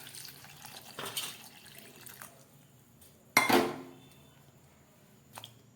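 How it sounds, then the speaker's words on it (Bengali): Water poured from a tap or jug into a bowl of cut potatoes in a home kitchen, a short splashing burst in the middle, with light clinks of the bowl before and after. "প্রথমে আমি এর মধ্যে দিয়ে দিচ্ছি জল।"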